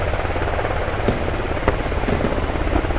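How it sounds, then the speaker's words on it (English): Engine noise from a BTR armored vehicle in the video game Squad: a dense, continuous broadband rumble with a steady throbbing texture, loud and constant throughout, with no clear speech. "Sounds like a BTR."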